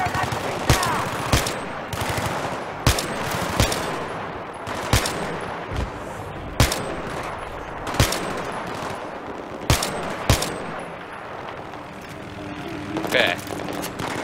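Battlefield 3 weapon fire: a steady series of loud, sharp shots spaced about a second apart over a noisy combat background, with occasional voices in the mix.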